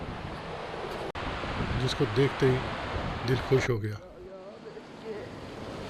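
A waterfall tumbling beside a mountain road on a trip toward Munsiyari gives a steady broadband rush that runs through the whole clip, with someone talking over it for most of the time.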